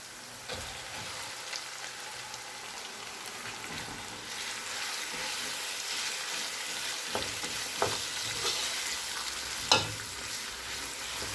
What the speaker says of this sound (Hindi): कीमे को अदरक लहसुन के पेस्ट में फ्राई करेंगे।